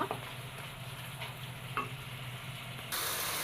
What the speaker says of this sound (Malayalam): ഞാൻ മീൻ ഫ്രൈ ചെയ്തിട്ട് കൊടുക്കാം ഇതാ മീനൊക്കെ ഇട്ട് കൊടുത്തിട്ടുണ്ട്